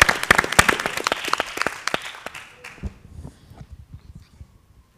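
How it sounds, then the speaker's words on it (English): A burst of applause from a crowd, loud at first, then thinning into scattered claps that fade out. "They deserve an Thank applause."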